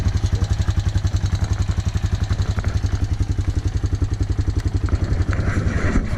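A Honda Foreman 450 ATV engine runs without choke on a mild day, a loud, close, steady mid-pitched thump with rapid even firing pulses and a faint mechanical clatter, no voices.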